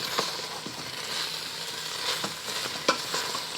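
Beef brisket pieces being stirred through curry sauce in a pot for Hong Kong style curry beef, with a steady background sizzle and several soft scraping strokes of the spoon, fairly close and without talk.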